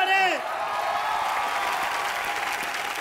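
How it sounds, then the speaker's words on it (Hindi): Studio audience at a television comedy show bursting into applause with some cheering and whoops, loud at first after a brief voice, then settling into sustained clapping. "एक बार जोरदार ताली मारे"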